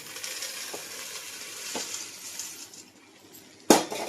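Corn flakes fry with a steady, close sizzle in a pan while a spoon stirs them in soft scrapes, ending in a sharp metallic clank against the pan.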